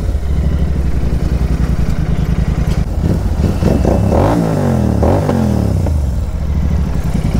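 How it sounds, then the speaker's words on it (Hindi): An Interceptor 650 motorcycle fitted with an aftermarket exhaust rumbles loudly and close while being ridden. It holds a steady throbbing note, then rises and falls through a couple of rev swells midway, with wind and road noise underneath. "अभी इंटरसेप्टर 650 इसको राइड कर रहा हूँ"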